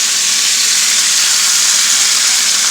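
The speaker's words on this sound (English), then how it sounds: "frying these in butter because venison has like literally no fat on it" Venison pieces frying in butter in a pan give off a loud, steady, close sizzle with an even hiss and no breaks, and no one talks.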